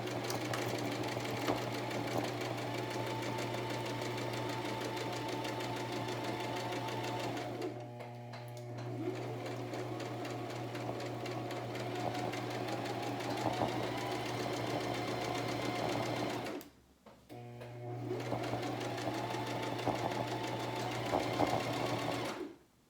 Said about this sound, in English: I am gonna lock in a few stitches just to make sure that it doesn't come unsewn.